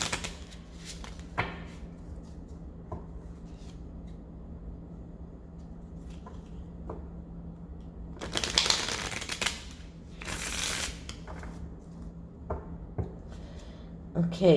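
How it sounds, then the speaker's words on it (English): A deck of oracle cards is shuffled by hand, with soft papery riffles and taps scattered across the span, two louder bursts of shuffling midway, over a quiet hum with faint voice in the room. "I'm going to shuffle the deck."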